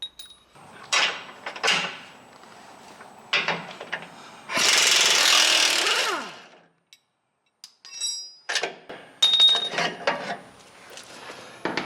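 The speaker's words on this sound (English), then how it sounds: "Using a 21mm wrench and socket, the lower arms will be the first to go." A 21mm wrench and socket loosening the factory lower control arm bolts on a Jeep JL Wrangler, with sharp metallic clicks and clanks, a burst of loud rattling impact-style noise lasting a couple of seconds, then more scattered tool knocks.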